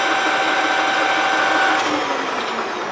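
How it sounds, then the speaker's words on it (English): A Clausing Colchester 15 x 50 gap bed engine lathe, model 1550, runs at 1500 RPM, giving a smooth, loud, steady mechanical whir with a high tonal whine that holds throughout. "Nice running lathe."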